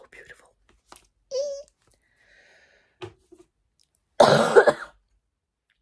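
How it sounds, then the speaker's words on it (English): A few scattered coughs and throat noises, with one harsh, loud cough burst near the end; quiet stretches in between. "the cough is just like more frequent at the moment"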